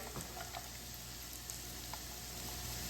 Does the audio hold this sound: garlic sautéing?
yes